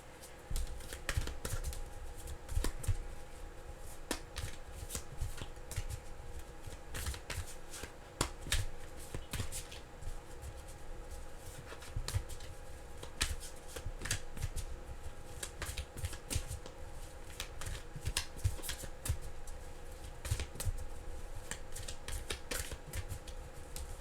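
Tarot cards are shuffled without pause, a dense, close riffling and flicking that runs continuously at a steady, moderate level, with no talk.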